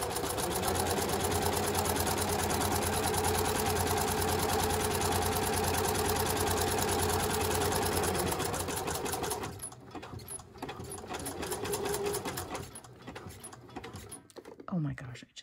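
A sewing machine runs steadily, stitching a 3/8-inch seam along a garment lining, a fast continuous whirring hum for about nine seconds before it slows into shorter bursts and stops, with a voice speaking briefly near the end.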